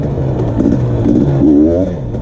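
A 2020 KTM 250 XC dirt bike engine under way on a trail ride at Rivers Edge: a loud, continuous buzzing drone that climbs in pitch as the throttle opens, with no talking.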